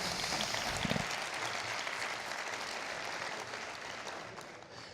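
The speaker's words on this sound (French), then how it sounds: "On peut l'applaudir." Sustained audience applause filling a French conference hall at the GEN2018 event, dense clapping steady throughout with a brief louder burst near the start, no voices over it.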